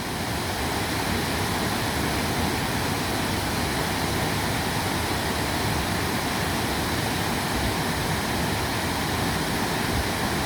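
Waterfall: a dense, unbroken roar of rushing water, loud and steady throughout with no other sounds standing out.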